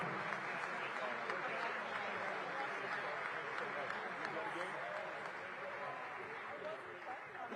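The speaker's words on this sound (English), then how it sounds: "give them a round of applause as they make their exit" At a groundbreaking for the Capital One Arena redevelopment, a crowd gives sustained, steady applause for departing Washington Wizards players. It holds as an even wash of clapping, heard from a distance throughout.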